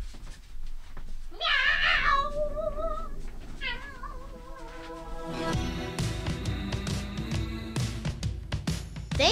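A cat meows several times in drawn-out, wavering calls, close and fairly loud, before a burst of music swells in underneath and carries on to the end.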